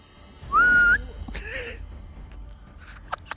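A single person whistles a short rising-then-level tune, clear and close, followed by a soft breathy sound and scattered faint clicks in a quiet room.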